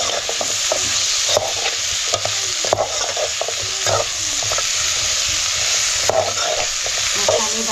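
Spiced jackfruit pieces stirred in a pan over a wood-fired clay stove, a steady loud sizzle of frying with repeated scraping scoops of the spoon throughout, no voices.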